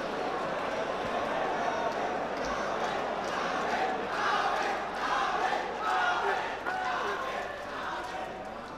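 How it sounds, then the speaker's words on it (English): Albin Ouschan's supporters cheer and shout loudly at the 2023 Hanoi Open Pool Championship final, a sustained, dense crowd roar that swells and dips without letup. "And now the Albin Ouschan cheering section find their voice."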